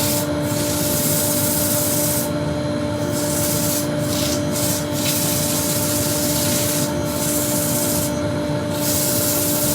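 Sandpaper at 100 grit rubbing against a spinning burr elm bowl on a wood lathe, giving a loud continuous abrasive hiss over a steady motor hum, with brief changes in pressure.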